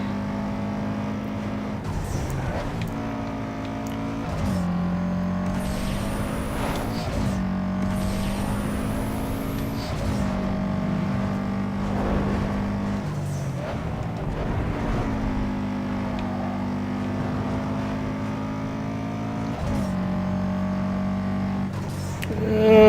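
Race car engine in the video game Need for Speed Underground 2, a steady loud harmonic drone with rising and falling pitch as gears shift, sustained throughout with no talk.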